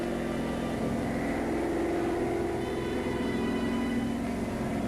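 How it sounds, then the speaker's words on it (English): A German reconnaissance plane drones steadily overhead, a continuous propeller engine hum that holds at a moderate level without breaks or talk. "German reconnaissance plane."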